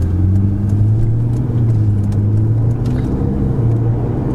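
A 2017 Ferrari 488 sports car cruises in sixth gear at low speed, its engine giving a steady, loud, low drone with a faint shifting hum, recorded from inside the cabin with no talk.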